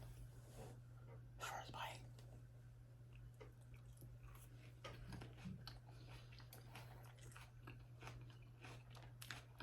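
Close, quiet chewing and crunching on a bite of tomahawk steak with a salad of feta, grape tomatoes, onions and arugula, with soft wet mouth sounds over a steady low hum.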